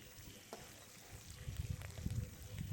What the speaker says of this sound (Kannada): ಈ ಕರಿಬೇವು ಸೊಪ್ಪು ಸ್ವಲ್ಪ ಫ್ರೈ ಆಗಬೇಕು, ಗರಿ ಗರಿಯಾಗಿ.